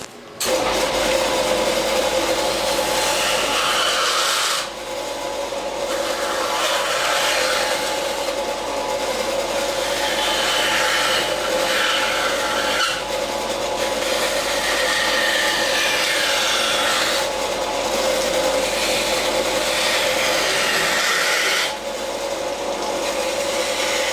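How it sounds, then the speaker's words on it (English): Bandsaw cutting an odd-shaped vintage headlight part, a steady loud rasping whine with a constant motor hum, briefly dipping a few times as the workpiece is repositioned. "it's going to be difficult to cut because it's not going to lay totally flat at times on the bandsaw table"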